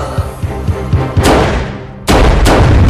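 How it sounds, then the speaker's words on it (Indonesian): Gunfire from a film scene: several muffled thuds are followed by sharp, loud blasts that build into a heavy, sustained barrage of shots with a booming low end. "Dengan sigap, Neng Dora pun menembak tubuh si Lemon berkali-kali"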